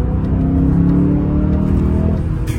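A manual-gearbox car's engine pulls hard under acceleration, a loud, close, steady low drone with a faint rising tone, heard from inside the cabin with no talking.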